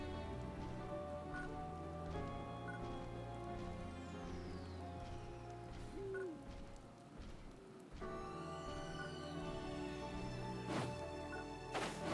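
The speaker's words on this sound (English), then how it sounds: "we got some rain coming down, but that's not a thunderstorm" Rain pours steadily in the game PSO2 New Genesis, a continuous wash layered over the soundtrack's sustained tones and chimes, with no voice.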